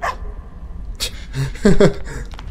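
Dog in the video game Adam's Venture, a few short barks and yips in quick succession, close and fairly loud, mixed with other game sounds.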